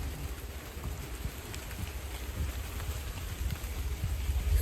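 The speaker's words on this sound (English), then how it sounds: "the rainfall just making quite a commotion" Steady rain patters densely on foliage, a continuous rustling hiss with soft low rumbles, fairly close and even throughout, no voices.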